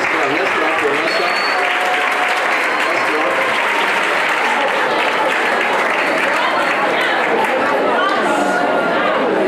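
Sustained applause and clapping from a church congregation during a live-streamed sermon, dense and steady throughout, with crowd chatter and voices mixed in beneath the clapping.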